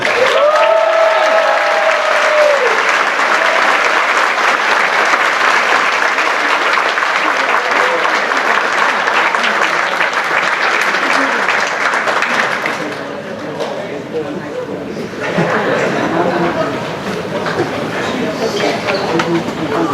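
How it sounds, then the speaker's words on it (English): Graduation ceremony audience applauds an award recipient in a long, loud, continuous round that eases somewhat toward the end, with faint talk mixed in. "that's applause"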